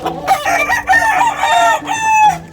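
Several chickens cluck loudly and close by while a rooster crows over them, with overlapping calls filling the whole stretch.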